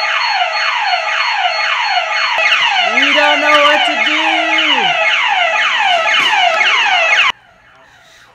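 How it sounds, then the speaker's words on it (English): A rental house's alarm blares a loud, rapid, continuous warbling electronic wail for about seven seconds before cutting off abruptly, while a voice shouts over it. "So we set off the alarm."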